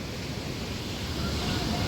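Ocean waves crash against rocks on the coast of Tenerife, a continuous loud roaring wash of surf with wind buffeting the microphone.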